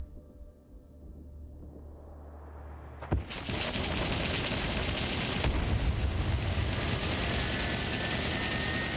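Gunfire at mech robots in the SCUM video game: a quiet lull, then a sudden sharp report launches into sustained rapid shooting that stays loud and dense to the end.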